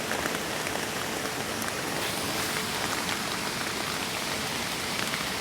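Heavy rain pounding a tarp stretched over people sheltering under a bridge by a river, a dense, loud, unbroken patter of drops close overhead with no talking.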